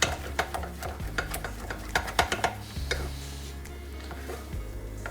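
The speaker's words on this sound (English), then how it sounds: "you make sure you're stirring it quite vigorously" Doughnut dough being stirred vigorously with flour in a pan, a steady run of scraping, knocking strokes with faint sizzling underneath, close and fairly quiet.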